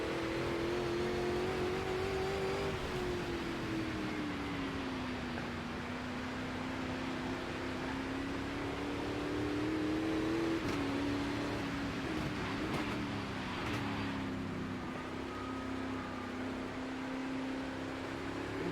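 Race cars in a racing video game with wet, puddled track conditions drone steadily, a continuous engine tone rising and falling gently with speed, with no talk over it.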